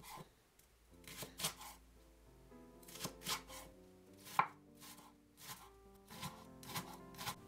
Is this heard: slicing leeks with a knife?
yes